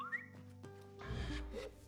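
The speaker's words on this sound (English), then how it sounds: "Somebody's whistling at me." A character whistling in the video game Sable, a few short rising whistle notes over soft game sounds and a low rumble, moderately close.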